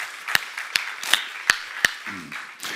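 Sharp, separate handclaps ring out in a church seminar room, about five distinct claps in an uneven rhythm over a low background hum, with a faint voice murmuring near the end.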